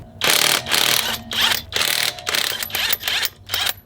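A ratchet with a socket removes car wheel nuts, giving a run of rapid clicking bursts in a steady back-and-forth rhythm, close up with no talking.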